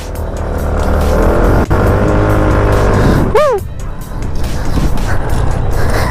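A Motorstar Easyride 150P scooter with an upgraded CVT revs hard and loud at close range, its engine whine climbing and holding at high rpm, with a brief pitch-bending surge midway and a voice heard under the noise.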